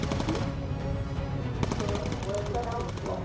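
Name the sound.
bomber gunners firing machine guns in Bomber Crew video game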